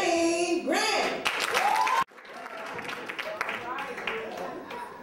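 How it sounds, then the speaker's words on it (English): A comedy audience breaks into a rousing round of applause for comedian Wayne Grant: dense, steady clapping from a crowd that follows a host's loud spoken introduction. "Rousing round of applause for Wayne Grant."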